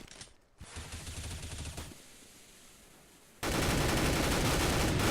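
Rapid rifle gunfire from an M4A4 in a Counter-Strike match plays as dense, continuous sprays of shots. It sharpens and grows louder near the end, with no talk over it.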